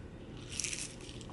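A single crisp bite into a crunchy chipotle cheese quesadilla, a short crackling crunch that is close and fairly loud, with no talking.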